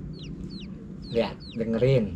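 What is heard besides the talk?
baby chicks peeping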